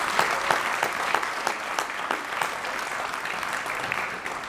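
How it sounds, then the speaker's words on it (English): An audience at a university athletics awards ceremony in an art museum gives a sustained round of applause, dense, even clapping from many hands filling the room, steady throughout and easing slightly at the end. "So give yourselves a round of applause."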